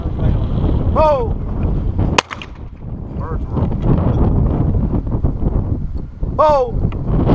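Strong wind gusting across an outdoor golf course, a steady loud roar buffeting the microphone throughout, with people talking and shouting over it and a couple of brief birdcalls.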